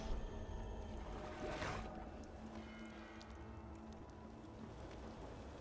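Blood rain spell from the video game Divinity: Original Sin II, a steady wash of rain-like patter that stays fairly even throughout, with a brief brighter swell of spray near the start and no talk over it.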